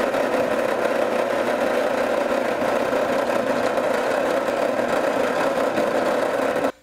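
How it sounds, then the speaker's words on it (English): A drill boring pilot holes into a wooden crankbait blank, with a steady, loud motor whine and vibration running continuously before cutting off abruptly at the end. "The first thing I want to do is drill in those locations at the center of the eye and the center of my rattle chamber."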